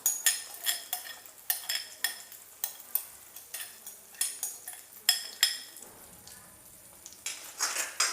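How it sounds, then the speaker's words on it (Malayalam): Beaten egg mixture is stirred and scrambled in a pan for a sweet and spicy cutlet filling, with repeated sharp scraping strokes of a utensil against the pan over a soft sizzle, close and rhythmic with a short pause. "മുട്ടയുടെ മിക്സ് അതിലേക്ക് ഒഴിച്ച് നന്നായി ഇളക്കി കൊടുത്ത് വേവിച്ചെടുക്കുക, ചിക്കിയെടുക്കണം."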